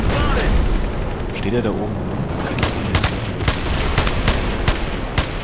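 Gunfire from the player's weapon in the Battlefield Play4Free shooter, a series of sharp shots popping out over a busy battlefield din, with someone talking over the start.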